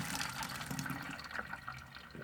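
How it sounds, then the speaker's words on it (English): Hot liquid from a cheese and tomato curry poured out of a saucepan, a short close splashing trickle with no talking. "here I am coming along with the saucepan, and you pour it out like that"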